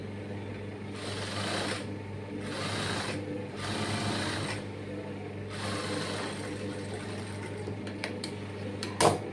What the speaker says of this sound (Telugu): ఇప్పుడు ఈ రెండు ఇలా పట్టు క్లాత్ని ఫస్ట్ పెట్టుకున్న రెండు పట్టు క్లాత్ని ఇలా కుట్టేసుకోండి